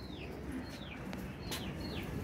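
Pigeons coo softly amid a pigeon keeper's flock with a newly brought young bird, with a few thin chirping calls over steady low outdoor rumble and no talk.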